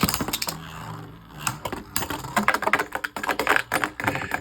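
Two Hasbro Beyblade Burst Valtryek spinning tops, one a used black Valtryek V2, clash in a plastic stadium after launch, making a busy clatter of rapid clicks, rattles and sharp metallic knocks that come in uneven bursts, close and fairly loud.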